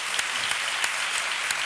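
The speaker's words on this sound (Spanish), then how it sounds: "Un aplauso para la ONU de los palquitos." A television studio audience claps steadily, a dense, even wash of applause with occasional sharper claps standing out, moderately loud.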